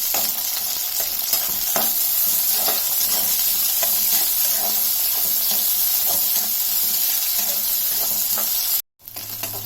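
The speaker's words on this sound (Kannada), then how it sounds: "ಕಡಲೆಬೇಳೆ ಇಷ್ಟನ್ನು ಫ್ರೈ ಮಾಡಿ" Chana dal and onion sizzle and fry in a hot pan for a carrot palya, with a loud, steady crackle and occasional stirring scrapes throughout, then a sudden brief cut near the end.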